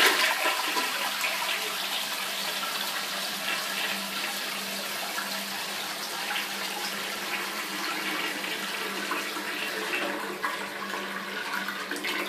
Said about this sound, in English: It's flush.